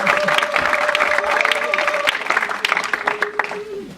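A church congregation at a Sunday service bursts into loud, dense applause mixed with voices and cheering, a steady wash of clapping that thins toward the end.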